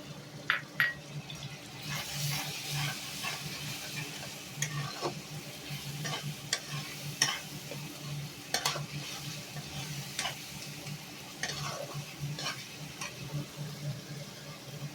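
Ground cumin, coriander and green chili paste frying in a pan for dimer polao, a soft sizzle under repeated spoon scrapes and taps against the pan, close but fairly quiet, with no talking.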